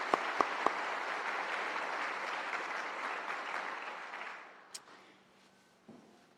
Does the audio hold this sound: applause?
yes